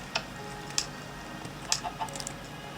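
Minecraft chickens at an egg farm give a few short, soft clucks, scattered and spaced apart over a steady faint background hum.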